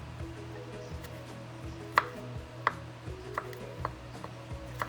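Kitchen knife cutting chicken into very small pieces on a board, quiet irregular sharp taps spaced apart over a low steady background hum.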